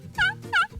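A slate call imitates a wild turkey, producing two short, raspy yelps close and clear, followed by a fainter scratch.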